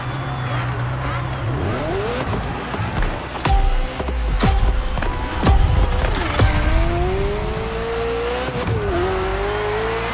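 A Ferrari F40 in The Crew Motorfest revs and shifts through gears, its engine pitch sweeping up and down with a few sharp tire squeals and thumps, loud and close throughout.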